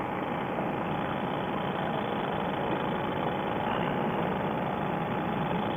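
A paramotor engine runs continuously on a landing approach, with a steady loud droning buzz and wind rush throughout.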